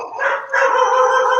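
A border collie lets out a loud, drawn-out bark that rises into a howling yelp, close by and sustained for over a second, with no one talking.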